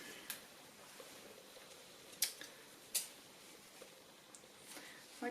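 Scissors snip through folded toilet paper, leaving a couple of faint, sharp cuts and light paper rustle over a quiet room.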